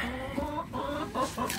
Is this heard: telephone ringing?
no